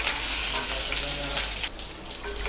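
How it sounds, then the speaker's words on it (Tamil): Mustard seeds, chana dal and urad dal crackle in hot oil in a pan for a Tamil keerai kootu. The sizzling is loud, steady and close, with sharp pops of spluttering seeds and no talking. "ஆயில் நல்லா காஞ்சதுக்கப்புறம் கடுகு, கடலைப்பருப்பு, உளுத்தம்பருப்பு போட்டுக்கலாம்"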